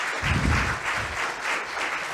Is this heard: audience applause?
yes